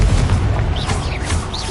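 A Confringo blasting curse detonating in the video game Hogwarts Legacy, a short deep booming burst with a rumbling tail and brief whooshing swirls, loud and close, with no talk.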